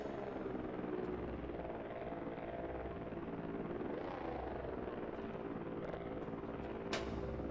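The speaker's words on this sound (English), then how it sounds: "Not that I could really hear it over the sound of the drone." A drone flies in the video game Voices of the Void, giving a steady, droning rotor hum that holds for several seconds, close and even, with a brief high click near the end.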